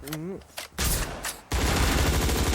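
Dense, loud gunfire in the top-down shooter surviv.io, a sustained rattling barrage filling the latter half after brief earlier shots, with a voice audible at the start.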